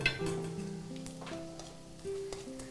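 Spice powder for a millet rice dish being sautéed in a pan, giving a soft continuous sizzle with gentle scraping stirs, close up and with no talking.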